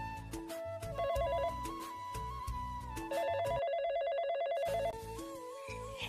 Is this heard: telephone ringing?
yes